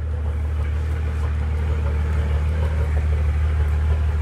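A 2006 Mercedes-Benz S65 AMG V12 engine idles steadily nearby, a low, even rumble with no revving and no voices.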